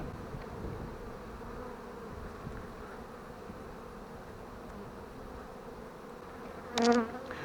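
Honey bees hum in a soft, steady drone at a hive, with one louder buzz passing close by near the end.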